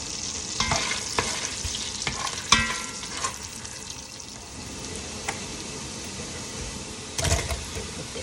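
Garlic sautéing in butter in a pan for Batangas-style beef kaldereta, a steady soft sizzle with occasional stirring clatters and scrapes, close and fairly quiet.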